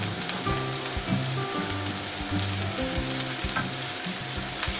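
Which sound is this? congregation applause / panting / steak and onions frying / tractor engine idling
steak and onions frying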